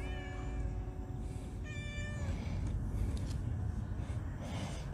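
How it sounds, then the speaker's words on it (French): Small cat meowing repeatedly and plaintively at close range over a low background rumble, with several drawn-out mews in a row. "Il est malheureux ce petit chat."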